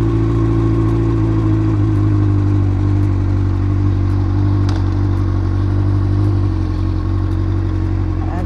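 A motorcycle engine idles steadily and close by, a continuous low, even rumble with no change in pace. It is about to be ridden away in a test of a battery-powered Monimoto GPS tracker.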